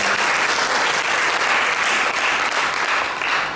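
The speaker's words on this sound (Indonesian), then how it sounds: "Berikan tepuk tangan dong buat kita." A congregation claps at a church service, steady and fairly loud, a dense even wash of hands that continues without a break.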